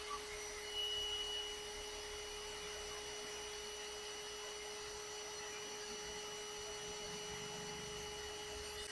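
Agaro handheld car vacuum cleaner running continuously, a steady close motor whine with a constant tonal hum, alone without talk.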